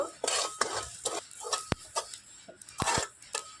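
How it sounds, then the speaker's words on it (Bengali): Whole spices being stirred and dry-roasted in a kadai produce rapid metal scrapes and clinks of a spoon against the pan, with a faint sizzle underneath, close and fairly quiet. "এবার নাড়াচাড়া করে একটু ড্রাই রোস্ট করে নেব"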